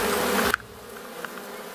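Black honey bees buzz around an opened hive colony, a loud dense drone that drops off sharply after about half a second, leaving a softer, fainter hum with a few brief buzzing passes close by.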